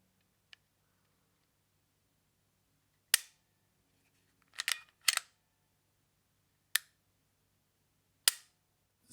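Sharp, isolated clicks from the trigger break of a CZ P10C pistol dry-fired on a tabletop, about six crisp snaps spaced irregularly with near silence between them, close to the microphone.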